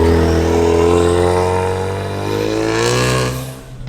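A four-cylinder Ford Mustang is driven hard, its engine droning loudly under load with a strong, steady harmonic tone that dips slightly, then rises in pitch as it revs up again.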